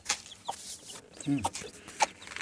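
A desi hen gives a few short, soft clucks close by, near newly hatched chicks, scattered among faint rustling and a brief murmur of voice.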